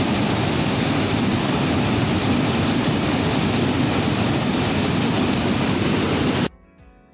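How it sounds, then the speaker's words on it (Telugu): Water pouring over a small mini dam at Pakhala Lake, Telangana, a loud, unbroken rushing roar that fills the clip at constant level until it cuts off abruptly near the end. "అక్కడ వాటర్ ఫ్లో అయితే చాలా బాగుంది."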